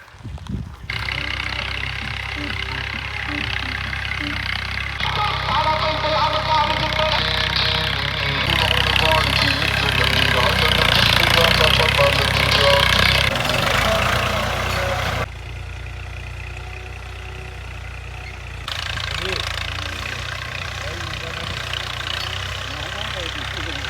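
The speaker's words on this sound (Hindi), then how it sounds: "ट्रैक्टर को उतारते हैं खेत में ताकि वो हल चलाना शुरू करे।" A tractor engine rumbles steadily at close range while ploughing a field for wheat sowing, a low continuous drone that swells and dips over time as the machine works, with no clear talk.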